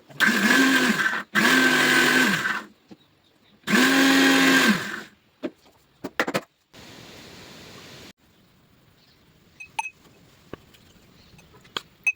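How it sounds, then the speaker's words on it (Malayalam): Small mixer jar grinding ginger with water for a summer sarbath, loud motor whirring in three bursts with short pauses, followed by quieter clicks and faint noise. "ഇതെല്ലാം കൂടെ നമുക്കിനി ഒന്ന് അരച്ചെടുക്കാം"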